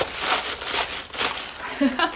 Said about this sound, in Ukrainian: шурхочу папірцями.